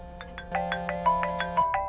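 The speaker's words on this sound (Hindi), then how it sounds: "पहले मुझे इस फोन को अटेंड करना होगा।" A telephone's electronic ringtone in a Ukrainian TV series scene, playing a steady repeating melodic pattern of short bright tones over a sustained hum, fairly close and loud with no talking.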